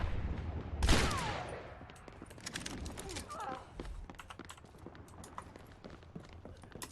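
Ashe's scoped rifle in Overwatch gameplay: one loud, sharp shot near the start, followed by scattered quicker gunfire cracks and clicky game effects over a busy battle background.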